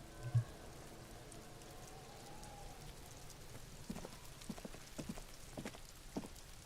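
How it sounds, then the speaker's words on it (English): Rain falls in the Disco Elysium video game, a steady soft patter on the ground with scattered heavier drops and a low dull thump near the start, moderately quiet and without voices. "Sound of the rain."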